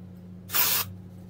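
A single short blast of Batiste aerosol dry shampoo, a sharp close hiss lasting under half a second against a quiet background hum.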